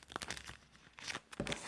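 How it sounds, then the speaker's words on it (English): Package of 3x4 Halloween journal cards opened one-handed in a shop, giving several short close tearing and crinkling bursts of paper and plastic with brief pauses between. "I'll open one to show you."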